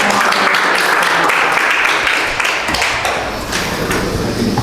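An audience at a talk on client interviewing techniques breaks into loud, sustained clapping that fills the room, with a few thumps and some voices mixed in.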